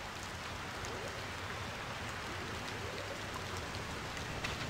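Steady rain falls in the online adventure game Sky, a dense continuous hiss of drops pattering on surfaces at an even level throughout, with no talking.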